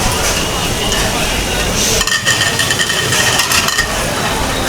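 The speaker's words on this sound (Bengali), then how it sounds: "এই চাপ ভাজা হচ্ছে" Spiced chaap meat frying on a griddle at a street food stall while it is stirred. The sizzle is loud and dense, with scraping stirs and clinks over constant busy background noise.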